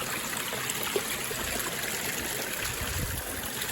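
Moorland stream on Kinder Scout flowing steadily, a constant broadband rushing and trickling of water heard close by, even in loudness throughout, with no voices.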